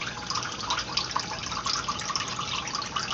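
Steady close splashing and gurgling pour continuously from a small ceramic dragon fountain, its water bubbling out of a mushroom-shaped top, with no voices.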